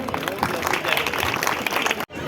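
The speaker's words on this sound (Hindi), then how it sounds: "तालियां रुकनी नहीं चाहिए" Audience applause at the inauguration of a park, a dense, steady wash of clapping from a crowd that carries on throughout before cutting off abruptly near the end.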